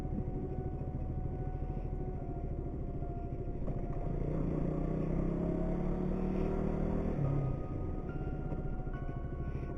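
An old KTM Duke 200 naked motorcycle rides along with a steady, droning engine rumble, rising slightly in pitch midway as it accelerates, heard continuously at moderate level with wind noise.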